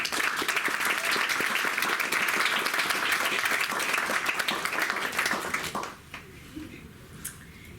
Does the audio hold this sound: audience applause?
yes